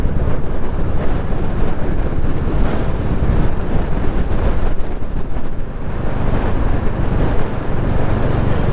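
Strong wind blusters across an open, bleak hillside near Eyam, roaring steadily into the microphone as a loud, continuous rush with no voices.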